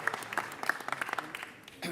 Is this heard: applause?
yes